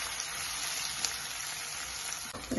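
Chopped green chillies and onions fry in a pan with a steady, soft sizzle and light crackle, quiet and close, with no voices over it.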